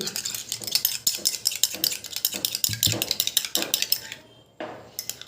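A spoon stirs aloe vera gel mixed with onion juice in a bowl, giving rapid, rhythmic clinks and scrapes close up that stop briefly near the end and then resume.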